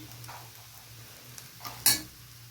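Egg bhurji with pepper powder and salt sizzles softly in a pan while a utensil stirs and scrapes it, ending in a brief, sharp metallic clink up close, with no talking.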